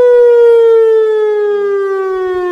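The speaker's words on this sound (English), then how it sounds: "sirens are generally sounded for about 3 minutes" Electronic tornado warning siren in Missouri, a loud sustained tone with strong harmonics that holds and slowly slides slightly downward in pitch, alone without talk.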